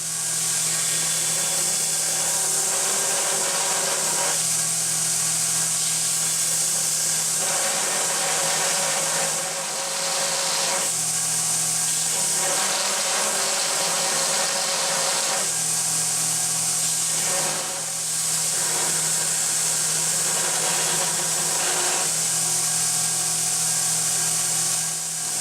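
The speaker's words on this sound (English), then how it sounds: "I'm going to hit them on the belt sander and clean it up a hair" A belt sander runs steadily on metal brake parts, giving a loud continuous whine and grinding roar whose tone shifts slightly as pressure changes over about twenty-five seconds, with no voices.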